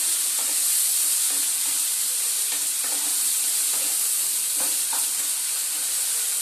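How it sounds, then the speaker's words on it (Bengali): Chicken sautéed with spices in a pan gives a steady, loud sizzling hiss throughout, with occasional soft scraping stir strokes, close by and with no talk. "এবার চিকেনটাকে খুব সুন্দরভাবে কষিয়ে নেব"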